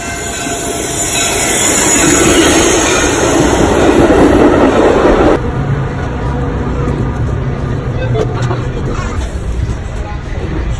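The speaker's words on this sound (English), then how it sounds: "The next inbound Metra train to Chicago is now arriving in your station." A Metra commuter train to Chicago rolls into the station loudly with wheels squealing and rails clacking, then eases down to a quieter rumble while a crowd murmurs nearby.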